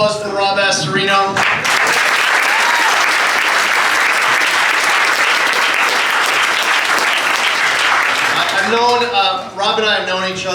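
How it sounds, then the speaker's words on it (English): A rally crowd at the Manor House in Hastings-on-Hudson, Westchester, breaks into sustained loud applause and cheering for Rob Astorino, dense clapping filling the room, with voices over a PA heard briefly at the start and end. "Big round of applause for Rob Astorino."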